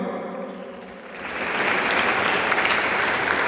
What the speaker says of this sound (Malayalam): കൈയടിക്ക് ബലം പോരല്ലോടോ